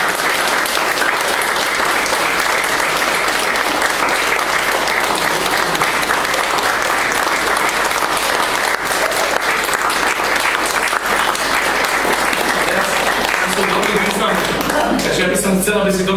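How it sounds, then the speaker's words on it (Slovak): An audience gives sustained applause at a graduates' awards ceremony. Dense, loud clapping continues for the whole stretch, and a voice speaks over it near the end. "Ešte raz veľký potles vás poprosím."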